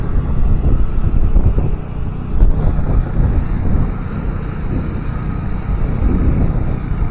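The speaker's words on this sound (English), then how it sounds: "It's a wee bit windy to get the drone up, folks, so it is." Strong wind blows outdoors near a windsock and helipad, buffeting the microphone with a constant loud, low roar and gusty rumble that never lets up.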